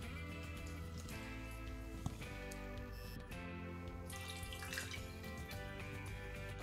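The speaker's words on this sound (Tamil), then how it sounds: "இது கூட 200 ml தண்ணி சேர்த்துக்கிறேன்." Water poured into a pan of jaggery sugar makes a quiet, continuous trickling splash, faint and steady with small gurgles.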